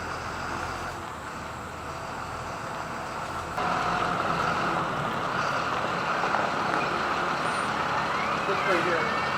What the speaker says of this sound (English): the truck is here